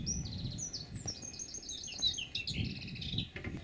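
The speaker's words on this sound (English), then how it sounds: "The birds are singing." Small birds singing outdoors in a garden in Israel, a continuous run of high chirps and trills close by, over a soft low background rumble.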